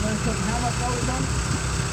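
A small portable generator runs steadily under load, a constant close engine hum and rumble filling the whole moment without change.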